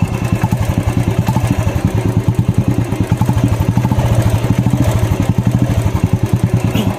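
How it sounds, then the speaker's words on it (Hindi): Royal Enfield Bullet motorcycle fitted with an Indori silencer exhaust idles close by, a loud, steady rapid thump-thump beat running without break. "जो बुलेट का साउंड होता है वही साउंड है ये,"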